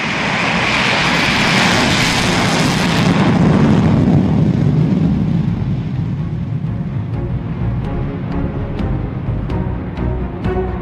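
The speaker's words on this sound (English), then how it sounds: "This plane you're seeing is the B-1B Lancer, the only supersonic bomber that the United States still has in operation." B-1B Lancer supersonic bomber flying past, a loud broad jet roar that swells then fades over several seconds into a lower rumble, with no talk.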